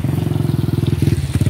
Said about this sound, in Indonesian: Lagi diperbaiki dulu motornya, tadi tidak bisa nyala, sekarang bisa